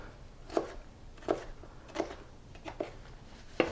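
Knife chopping vegetables coarsely on a cutting board, six evenly spaced, fairly soft close chops with no talking.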